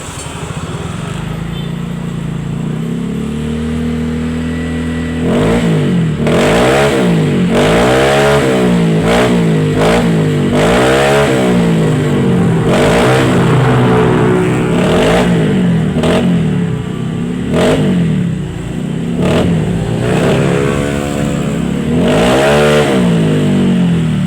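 A Honda Beat Deluxe scooter with a modified 'bobok' hollowed-out exhaust on a 30 to 32 pipe idles briefly, then revs again and again in quick, loud throttle bursts. The engine rises and falls close to the microphone throughout.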